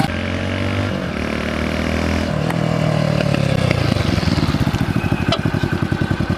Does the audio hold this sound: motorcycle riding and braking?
yes